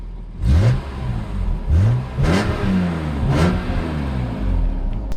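A BMW E46 M3 inline-six engine revs sharply three or four times in quick blips, each rising whine falling back to a raspy, rumbling idle, loud and close.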